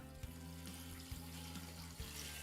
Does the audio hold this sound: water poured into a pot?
yes